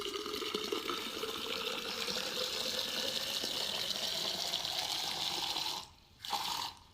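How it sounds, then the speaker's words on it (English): Water pouring steadily into a tube for a hydrogen gas demonstration, a continuous rushing gush that briefly stops near the end before resuming, with no speech. "I'm going to fill it up with water so you can see that."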